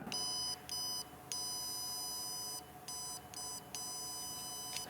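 A Rotkee ExaPen load tester probe beeps in a series of bright, high electronic tones, some long and some short, broken by brief gaps and steady in loudness.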